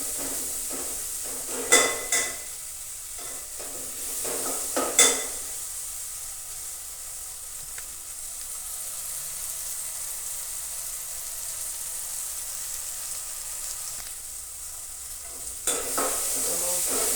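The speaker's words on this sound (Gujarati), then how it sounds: "ટમેટા અને મરચાં પણ સરસ ચડી ગયા છે." Tomatoes and chillies cooking in a pan for a Gujarati kadhi roti dish, a steady soft sizzle throughout with a few scraping stirs of a utensil against the pan, no voices.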